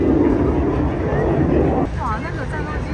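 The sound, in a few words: fighter jet flying past at Avalon Airshow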